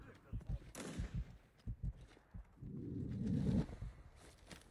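Sniper fire in a first-person shooter video game: several short sharp shots scattered across the clip, with a louder rumbling burst near the end, heard under excited talk.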